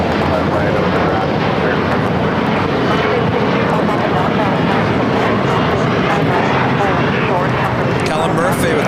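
A heavy jet airliner roars loudly through its takeoff at LAX, a dense, continuous engine rumble that stays close and powerful for the whole stretch.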